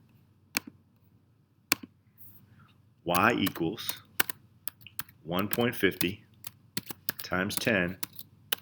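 Sparse, sharp key taps on a calculator keypad, several isolated clicks, followed by someone speaking close up with a few more taps under his voice.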